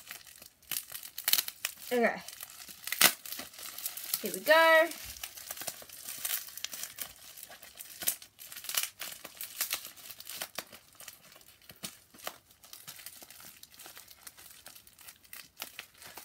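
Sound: plastic bag being opened

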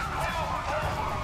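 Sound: police car siren in video game GTA 5

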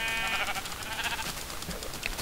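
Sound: sheep bleating in a video game

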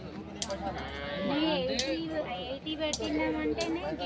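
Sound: calf at a cattle market

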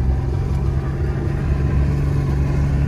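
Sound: ZR2 Bison truck driving up a hill

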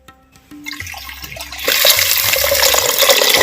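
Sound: water poured into a clay pot

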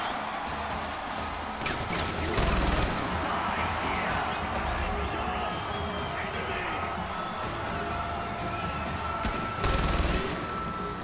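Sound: gunfire in video game Far Cry 4

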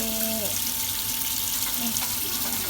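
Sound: tap water running while washing dishes

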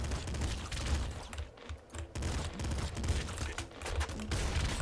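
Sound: assault rifle firing in video game Nuclear Throne

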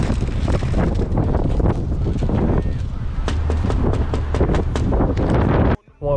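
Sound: wind blowing into the microphone

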